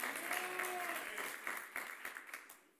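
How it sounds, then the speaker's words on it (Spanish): A church congregation claps together during a sermon, a dense burst of applause that holds briefly and then tapers off into scattered claps, with a voice heard faintly over it. "Dele fuerte ese aplauso a Jesús"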